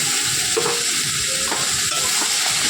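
Onion and green chili, added with five-spice seeds to hot oil in a pan, sizzle in a steady, continuous fry while being stirred, with no talk.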